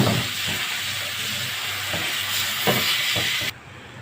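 Washed rice poured onto golden fried vermicelli in a hot pot, a steady loud hiss and sizzle that cuts off abruptly near the end, with no talking.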